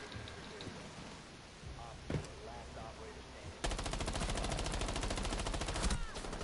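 Submachine gun fire in a modded video game: a sustained rapid burst of close, dense shots that kicks in partway through, following a quieter stretch with a few faint sounds.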